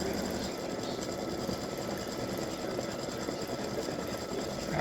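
An embroidery sewing machine stitches steadily and continuously at close range, a dense mechanical whir with a fast repetitive texture, running alone without pause.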